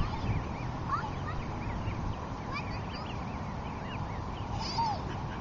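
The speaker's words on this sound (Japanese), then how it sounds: "ガチョウかな" Geese honking amid a noisy outdoor flock, repeated calls rising above a steady background murmur of birds.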